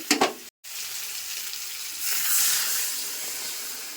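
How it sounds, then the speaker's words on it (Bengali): Potatoes fry in a pan with a continuous hissing sizzle that swells slightly partway through, with a couple of brief knocks at the start and no talk. "আলুগুলো খুব সুন্দর ভাজা হয়ে গেছে"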